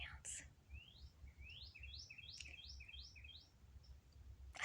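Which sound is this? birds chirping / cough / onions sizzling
birds chirping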